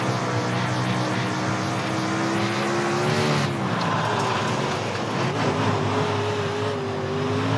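Race car in the iRacing simulator on a slick track, engine droning steadily with rising and falling harmonic tones as the throttle is applied, continuous and loud with no talk.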